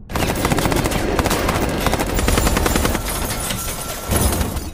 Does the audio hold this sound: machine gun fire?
yes